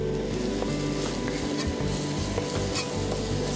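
Turmeric, cumin and coriander sizzle in a hot pan for a curry, a steady close frying hiss with faint scraping of stirring throughout and no voices.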